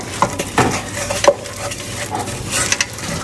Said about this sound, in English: Mix it in with the nicely softened onion amongst the melted butter.